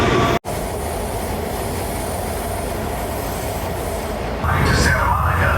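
An LA Metro rail train pulls into Civic Center station, a steady loud rumble of wheels on track filling the platform, with a brief dropout early and a brighter squealing surge near the end as it arrives.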